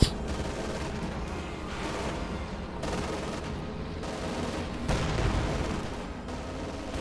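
Sustained volleys of gunfire and artillery in the real-time strategy game Company of Heroes 2, dense overlapping shots and booms rolling continuously at steady loudness throughout.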